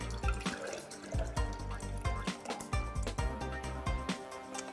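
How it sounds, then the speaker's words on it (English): Turkish ayran, a yogurt drink mixed with water, poured into a cup: a continuous close liquid splash and gurgle with small drips, steady and alone with no voices. "just pour it in the cup."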